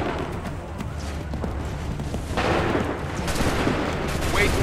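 A musket volley in Assassin's Creed 3, a dense rumbling burst of overlapping gunshots with booming low crackle, loud and sustained, swelling again partway through amid battle noise.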